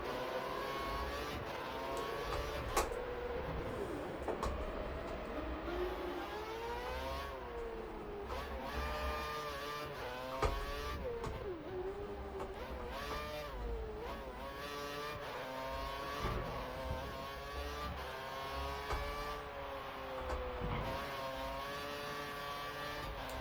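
A Force India Formula 1 car at the Singapore Grand Prix in F1 2013 screams through rising and falling revs, its high engine note sweeping up through the gears and dipping with repeated downshifts, close and constant throughout.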